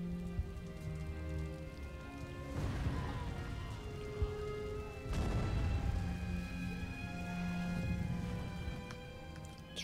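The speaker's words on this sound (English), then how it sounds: "it's raining" Steady rain pattering in the Total War strategy game, a continuous hiss with sustained tonal background sound and a couple of dull booms like distant cannon fire, fairly faint.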